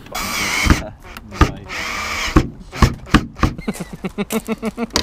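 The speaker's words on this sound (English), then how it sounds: "Drill it right there." A power drill whirs in loud bursts while drilling into a car, then a rapid series of sharp mechanical rattles speeds up toward the end.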